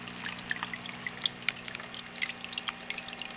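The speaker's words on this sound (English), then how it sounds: "I've got my water going over here" A small indoor water fountain trickles quietly and steadily, with light plinking drips scattered over a soft low hum.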